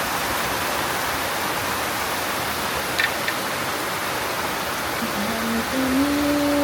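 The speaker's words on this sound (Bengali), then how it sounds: "বৃষ্টি পরে" Heavy rain pours steadily by a seashore, a dense broadband wash of close, constant downpour with no letup, and a faint tonal bleat-like sound rising near the end.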